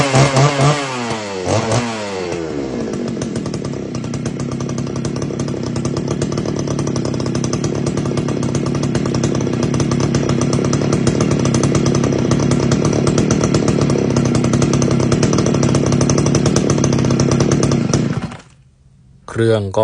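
A 63cc big-bore brush cutter engine screams at high revs: a loud, close, continuous buzzing roar climbs in the first seconds and holds steady, drops out sharply near the end, then roars back.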